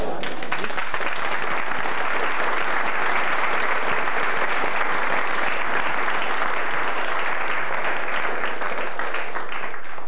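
Sustained, dense applause from a large festival audience, steady and loud throughout with no break.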